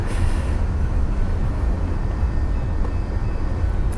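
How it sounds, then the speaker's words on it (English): A long train rumbling past up close while stopped at a crossing on a Honda Rebel 1100 motorcycle, steady broadband roar with low heavy rolling noise throughout, no talking. "Oh, that was a long train."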